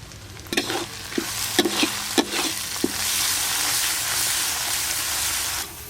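Chopped tomato and ground spices, including turmeric, chili paste and cumin, hit hot oil with ginger, garlic and onion. Several sharp clacks of a spatula ring out, then a loud, steady sizzle carries on by itself.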